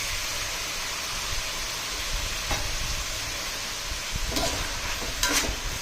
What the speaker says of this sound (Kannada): ಮಸಾಲೆ ಹಸಿ ವಾಸನೆ ಹೋಗೋವರೆಗೂ ಇದರಲ್ಲೇ ಹುರಿಬೇಕು.